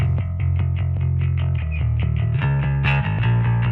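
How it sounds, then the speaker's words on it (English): A guitar part plays through an SSL 4kB channel strip whose high-frequency EQ is set as a shelf, a short loud strummed passage with a bright, edgy top end. "This is what it sounds like as a shelf."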